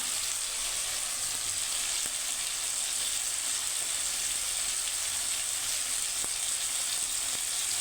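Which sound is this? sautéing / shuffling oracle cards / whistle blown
sautéing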